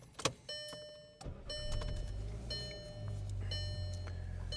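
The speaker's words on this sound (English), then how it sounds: "we're about to start the car up here" A Volkswagen MK6 with an EVAP leak and check engine light starts up: dashboard chimes and ticks sound first, the engine cranks and catches at about one second, then settles into a steady low idle as the chimes keep ringing.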